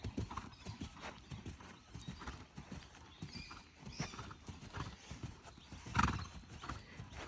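Hooves of a cantering horse in training, a rhythmic run of soft, muffled thuds in repeating beats, fairly quiet and close, with a brief louder snort or whinny near the end.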